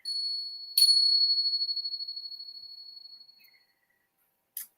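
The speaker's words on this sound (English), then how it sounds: "But they're the chimes." Metallic chimes struck twice close by, each ringing with a bright sustained tone that slowly fades, then a faint tinkle and one more short light strike near the end.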